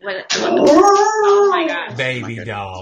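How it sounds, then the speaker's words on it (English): A husky-mix dog gives a long, wavering howl close by that rises and falls over a couple of seconds, with a voice speaking over and after it. "that's my dog howling"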